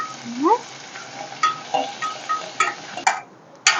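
Onions fry in a pan with curry leaves while a utensil stirs them, leaving a soft sizzle under a series of sharp metallic scrapes and taps at an irregular rhythm, with a brief squeak near the start.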